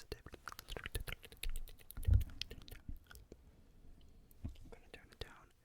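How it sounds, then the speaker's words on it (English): Clicky computer keyboard keys tapped in irregular quick bursts close to the microphone, with soft whispered talk running over the typing. "keyboard ASMR, like, oh, it's a little bit loud"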